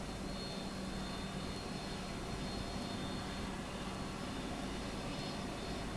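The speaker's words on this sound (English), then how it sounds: "Airbus now coming back down into the circuit to land" An Airbus A330-200 jet airliner comes back down into the circuit to land at an air show in Dubai. Its engines make a steady, broad roar at moderate volume, with no talk.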